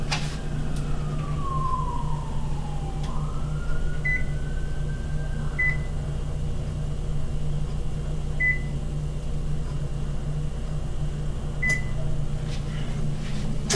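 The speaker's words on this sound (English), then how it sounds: "The air fryer warming." Kitchen air fryer warming up, giving a steady low fan hum throughout with a long descending tone, then a few short high beeps spaced several seconds apart.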